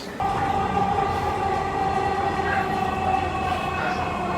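Steady rumble and whine of a metro rail train running, a continuous hum with faint tonal hiss throughout, fairly close and without talk.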